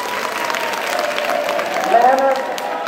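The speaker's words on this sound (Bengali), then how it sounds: "তাদের জন্য একটা করতালি আশা করছি" Audience clapping for class teachers at a high school annual exam results ceremony, a steady moderate patter of many hands sustained throughout with a brief swell near the end.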